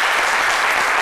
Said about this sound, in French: Merci d'applaudir très fort Amani Akissi Edith Marie